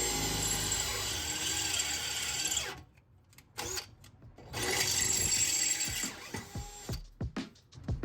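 A drill bit bores through metal while building a custom removable transmission crossmember, a steady high grinding whine that stops, then a few scattered clanks and a second burst of drilling, fairly close and with no talking.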